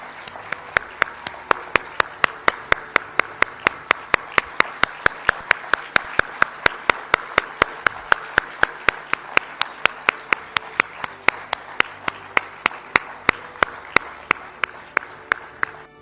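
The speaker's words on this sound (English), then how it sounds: "Let the applause keep coming." Sustained applause at a ceremony in Odisha unveiling the Junior Men's Hockey World Cup logo, with one sharp, steady clap repeating near the microphone throughout over a dense background of crowd clapping.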